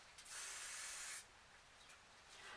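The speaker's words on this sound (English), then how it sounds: "And then I'm just going to add a bit of a lighter pink," A spray paint can sprays lighter pink paint onto a recycled canvas in a short burst of about a second of close, bright hiss, then quieter faint spray puffs afterward.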